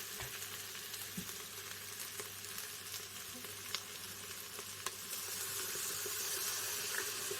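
Lamb sizzles in a pressure cooker as soy sauce is poured in, a steady close hiss of frying with a few faint clicks and a slight swell near the end, no voices.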